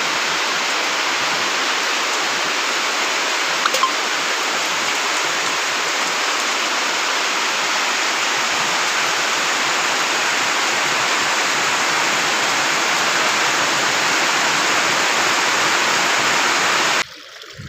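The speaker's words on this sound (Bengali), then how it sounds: "এখান দিয়ে পানি গড়তেছে" Rainwater rushes steadily through a channel on a wet rainy day, a continuous broadband wash of flowing water heard close and loud without a break, then stopping abruptly at the very end.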